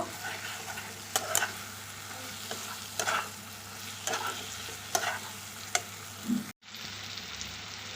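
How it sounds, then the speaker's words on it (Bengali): Okra sizzles in a pan while a spatula scrapes and clatters at irregular intervals, close and moderately quiet, cutting out briefly near the end. "ঢ্যাঁড়সটা দিয়ে আমি কিছুক্ষণ নেড়ে নিয়েছি"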